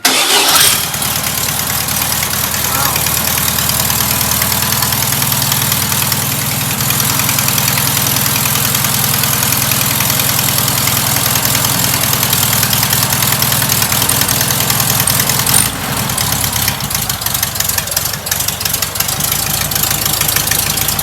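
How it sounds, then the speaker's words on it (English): A small air-cooled VW engine cranks and catches, then runs at a steady rattly idle close by through a slightly noisy muffler, its even chugging filling the whole stretch. "the muffler's a little noisy, but the motor's nice and quiet"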